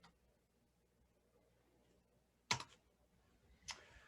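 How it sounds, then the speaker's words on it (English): A few quick keystrokes on a computer keyboard, faint and close, in two short clusters of clicks separated by about a second of quiet room tone. "now I'm going to type SolveView"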